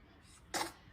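A newborn baby gives one short, soft sneeze in a quiet room, a single brief burst partway through.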